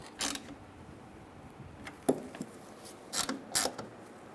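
Ratchet tightening radiator mounting bolts on a 1998–2010 Volkswagen Beetle, heard as a few short bursts of quiet clicking, spaced unevenly over a low background with no talk.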